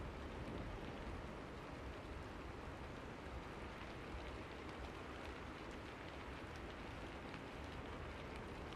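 Storm with steady rain and wind, a dense, unbroken hiss of downpour held at an even, faint level throughout with no voices.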